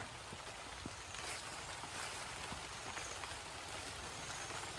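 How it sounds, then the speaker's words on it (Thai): Rain falling over a rice paddy on a farm, a soft, even hiss of drops spread across the field, steady and distant-sounding with faint scattered taps and no talking. "ฝนมาอีกแล้ว ฝนมาอีกแล้วครับ"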